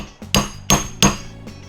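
A camping hammer with a brass-tipped head strikes sharply three times in a steady rhythm with a lighter tap before and after, loud and close with short metallic ringing and no talking.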